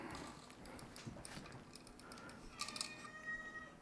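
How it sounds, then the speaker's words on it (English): A cat meows faintly indoors during a PC build in a Silverstone RL08 case, a brief, quiet cry near the end over low room noise and small mechanical clicks. "That'll be a cat."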